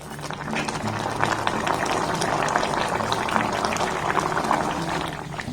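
Potatoes boil in water inside a covered pan, giving a steady, dense bubbling and rolling churn that stays loud and continuous throughout with no voices over it.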